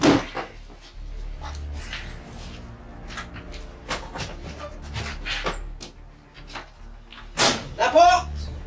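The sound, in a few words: door slamming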